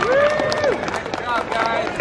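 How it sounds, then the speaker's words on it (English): An audience at a taekwondo tournament claps and cheers in a dense, close burst. A voice calls out over the crowd. "Give us a round of applause."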